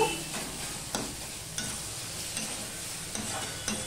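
Tomato and eggplant are stirred and mashed in a pan over low-to-medium heat, a soft continuous sizzle marked by several light scraping and tapping strokes of the spoon at irregular intervals.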